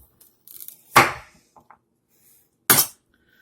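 A SHAN ZU 8-inch chef knife slicing through a hard root vegetable: two separate sharp, crunchy cuts ending in thuds on the board, close and clear with quiet gaps between them.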